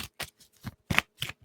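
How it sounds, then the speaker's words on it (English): Quick, crisp card shuffles, about six short riffling bursts in an irregular rhythm, heard close up and alone. "And sloppy shuffle for your entertainment"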